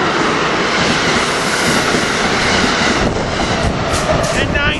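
A commuter train led by its cab car, with the locomotive at the rear, rushes past on the local track at Bryn Mawr, making a loud, continuous roar and rumble close by for the whole stretch.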